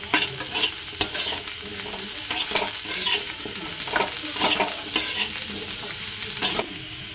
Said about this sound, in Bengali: আলু আর পেঁয়াজটা বেশ ভালো করে ভাজা হয়ে গিয়েছে, এবার দেওয়া হচ্ছে লঙ্কা কুচি।